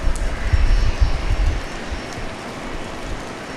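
A plane taxis for takeoff at Dallas Love Field, a low rumbling engine drone that is loudest early on and then settles into a steady, fainter hum.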